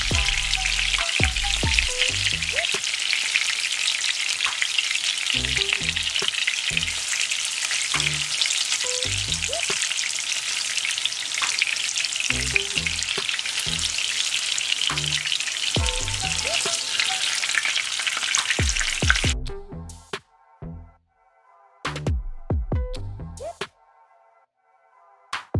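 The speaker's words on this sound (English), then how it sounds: "here I have my salmon. I just lightly fry them" Salmon bites lightly frying in a pan, a dense steady sizzle with scattered pops and stirring clatters, close and loud, then cutting off into brief clinks and a short burst of frying near the end.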